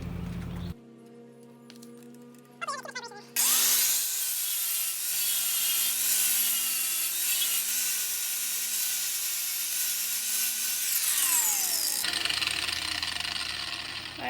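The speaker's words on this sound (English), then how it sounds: "I brought the grinder out and let's see if we can clean that up a little bit." An angle grinder working the rusty frame of a Volkswagen Bus, starting with a rising whine, then a loud, harsh, sustained grinding hiss that runs for several seconds before cutting off abruptly.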